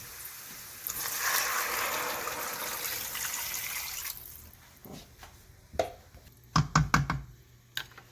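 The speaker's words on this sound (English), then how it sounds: "I'm going to add some water now." Cold water pours into a stock pot over roasted beef bones, a steady splashing gush for a few seconds that gives way to faint drips, knocks and clinks of the pot nearby.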